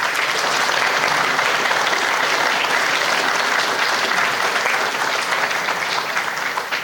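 Loud, continuous audience applause for Medal of Honor recipient James Allen Lynch, a thick wash of many hands clapping at steady strength from start to finish.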